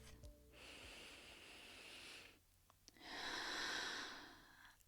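A slow, deep breath drawn in and then let out, each phase a long soft airy rush close to the microphone, separated by a brief pause, with no talking.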